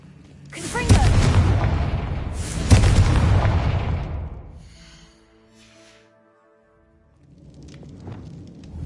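Two booming blasts of the Confringo fire spell in Hogwarts Legacy, each a loud sharp burst that fades into a long crackling roar, followed by a quiet lull and a softer rumble near the end.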